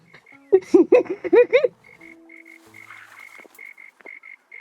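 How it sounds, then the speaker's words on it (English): A burst of loud, close frog croaks from the cozy building game Tiny Glade, followed by a quieter, evenly spaced series of high chirping calls against a silent background. "I love the game sound so much. The frogs."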